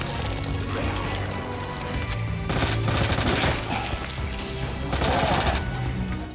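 Repeated bursts of gunfire in the Resident Evil 2 remake, loud close shots fired in clusters over several seconds with short gaps between volleys.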